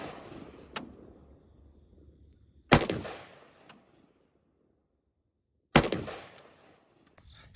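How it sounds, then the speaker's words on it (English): Rifle fitted with a red dot sight firing at a range: a faint early crack, then two sharp, loud reports a few seconds apart, each trailing off into quiet. "the first thing we're going to do is fire 3 shots on camera to confirm 0"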